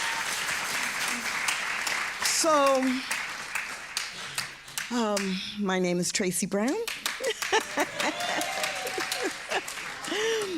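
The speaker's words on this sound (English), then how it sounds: "give them another round of applause" A church congregation claps for the band and music team during a worship service: sustained, dense applause runs the full length while a voice speaks and calls out over it.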